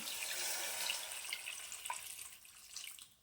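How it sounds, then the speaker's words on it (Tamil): Water is poured into a pot of mutton curry, a splashing, gurgling stream that is loud at first and then tapers off, with no talking. "தண்ணி சேர்த்துக்கலாம்"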